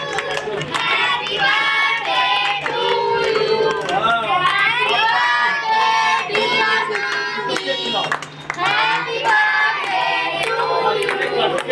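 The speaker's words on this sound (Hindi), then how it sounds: "इसके लिए जोरदार तालियां बजाओ बच्चे, 5 तालियां बजाओ जोरदार" Children and a crowd of elderly residents clap at a birthday cake cutting in an old age home in Nihal Vihar, Delhi, with busy chatter and voices throughout and the clapping mixed under loud talk.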